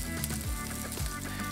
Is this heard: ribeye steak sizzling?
yes